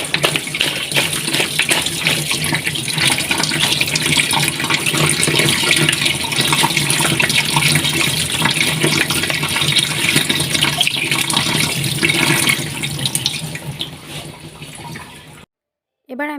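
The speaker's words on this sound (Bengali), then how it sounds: "এবার আমি মাছগুলোকে ধুয়ে নেব ভালো করে।" Running tap water gushes steadily and loudly as freshly cut koi fish are rinsed, with a continuous splashing wash for about fifteen seconds before it cuts off abruptly, followed by a short voice.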